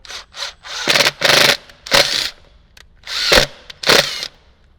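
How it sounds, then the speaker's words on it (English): A power tool drives a screw through a speaker mounting hole in a Jeep JL Wrangler during a Rockford Fosgate install, in loud, close whirring bursts of roughly half a second, some running back to back, and no talking. "grab one of the screws and just kind of get it twisted in there a little bit and then just run it through"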